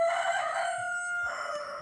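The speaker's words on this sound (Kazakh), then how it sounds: "Мына жақта тауық жүр ма?" A chicken in the Minecraft video game gives a steady, loud, tonal cluck-like call lasting throughout, repeating once after a brief break, with no talking over it.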